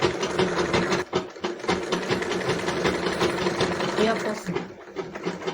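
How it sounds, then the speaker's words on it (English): A sewing machine stitching a sleeve to the body of a Yoruba buba blouse, its motor whirring steadily and close by, with a brief dip about a second in before it runs on. "I'm going to start my stitching right away."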